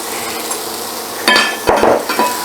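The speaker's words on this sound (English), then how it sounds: "I'm just gonna add my onions here." Chopped onions land in a hot frying pan and start sizzling, with a sudden burst of hiss, a couple of clinks from the utensil against the pan, and steady frying noise afterward.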